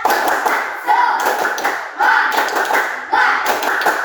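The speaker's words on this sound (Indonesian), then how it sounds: "mari kita tepuk semangat dulu ya." A school class claps out a rhythmic tepuk semangat spirit clap in bursts of group clapping and slapping, with short pauses between the patterns and voices joining in along with the claps.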